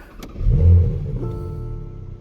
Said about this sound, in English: when you start up the car